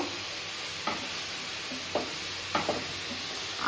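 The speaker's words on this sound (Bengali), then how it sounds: "এদিকে আলুর চোখাটা প্রায় হয়ে এসছে আর একটু ভালো মতো ভাজবো" Mashed potato frying in a pan gives a steady soft sizzle, with a few short stirring scrapes breaking through at intervals.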